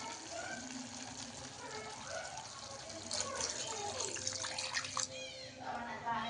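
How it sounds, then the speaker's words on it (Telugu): Water poured into a pot of country chicken curry, a steady splashing pour that grows fuller midway, close by and under light background noise. "వాటర్ యాడ్ చేయాలి."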